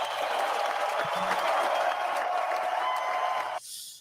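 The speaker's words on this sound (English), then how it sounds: "Give her a round of applause." A studio audience applauds a guest arriving on a live show, a steady wash of clapping that cuts off abruptly near the end.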